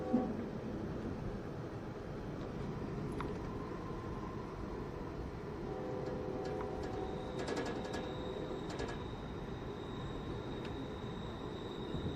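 Steady rumble of a train rolling across a high double-track trestle, with occasional faint squeals and metallic clanks over continuous low noise.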